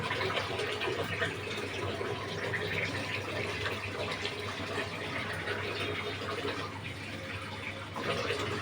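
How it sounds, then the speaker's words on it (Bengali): Water pours steadily into a cooking pot holding ginger-garlic paste and bay leaves for a mixed vegetable labra, a continuous splashing rush lasting several seconds at close range, with no talk. "আমি এখন এবার পানি দিয়ে দিব"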